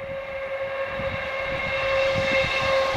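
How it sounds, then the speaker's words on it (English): A train passes near a lake in September, a steady, loud low rumble with a sustained tonal hum that swells slightly toward the end, with no voices. "There's a train."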